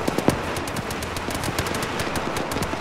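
Sustained automatic gunfire in the military shooter ArmA 3, dense rapid bursts with a few sharper near shots at the start, continuing loud and steady without talk.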